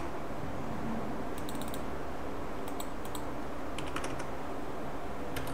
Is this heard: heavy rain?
no